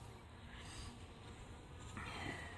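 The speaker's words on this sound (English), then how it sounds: "Normal activity for the bees." Honeybees buzz steadily inside an opened hive that holds its first capped queen cells, a soft, continuous, low drone with no talking.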